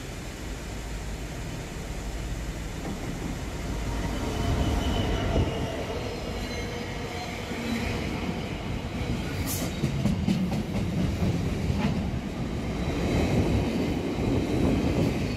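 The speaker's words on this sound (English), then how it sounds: "Stand clear for the platform edge of platform 4 for passing freight train." A freight train passes through platform 4 at Stafford railway station, a long rumbling roll of wagons with rhythmic wheel clatter and occasional high squeals, steady and fairly close for the full length.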